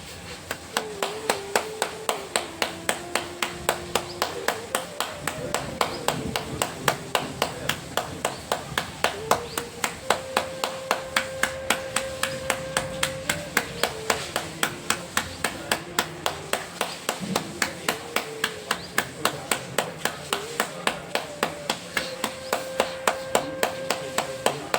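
Brisk, regular hand claps repeat throughout a yoga breathing exercise, sharp and close at a steady rhythm, with a faint voice and background tones underneath.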